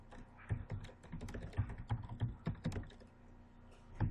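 Someone types on a computer keyboard at a close, quiet level, with irregular clusters of soft key taps and a few firmer strokes through the whole stretch, and no talking.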